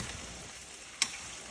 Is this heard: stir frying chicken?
yes